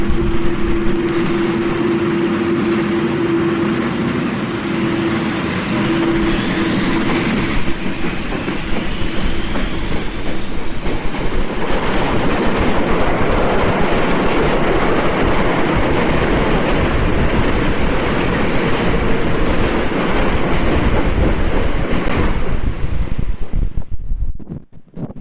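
A train passes close by, a loud, continuous rumble and rattling clatter lasting about twenty-five seconds before cutting off abruptly, with no one speaking.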